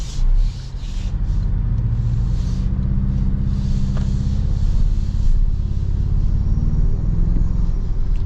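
A 2026 Toyota Tacoma's turbocharged engine heard from inside the cab, a steady low rumble with a faint turbo whistle, running continuously with no talk.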